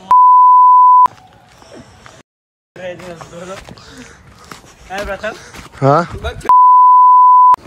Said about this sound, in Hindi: गाली नहीं बोले, बीप मार रहे।